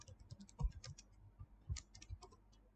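Soft, uneven bursts of keystrokes on a computer keyboard as code is entered, close but quiet, with short pauses between clusters of taps and no speech.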